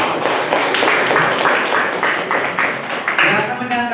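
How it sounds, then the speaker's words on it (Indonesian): A school class applauds a student group after their project presentation, steady clapping filling the room at full loudness with a few voices mixed in. "Tepuk tangan untuk kelompok 3."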